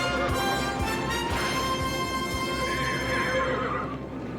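A horse whinnies loudly in a long, wavering neigh over a busy rumbling background, with faint hoof clops underneath.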